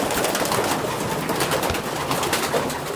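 Racing pigeons coo continuously inside a loft in Idaho, a dense overlapping murmur of soft calls that stays steady and close throughout.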